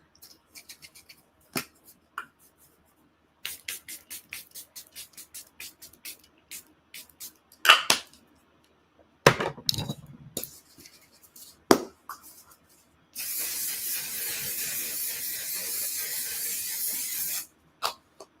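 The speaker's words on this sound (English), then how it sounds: "Let me spray the face." A steady hissing burst of face setting spray lasts several seconds after scattered clicks, taps and rustling, followed by a few faint breaths.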